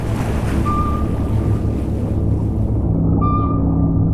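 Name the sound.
ocean waves and submarine sound effect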